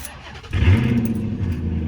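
Dodge Charger Daytona engine cranks briefly and catches, firing into a loud, close steady idle with a deep low rumble that holds through the rest of the moment, no voices over it.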